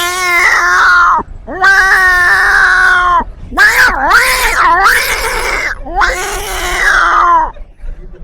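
A voice imitates two cats fighting, with long wailing yowls and rising, bending screeches in several loud bursts.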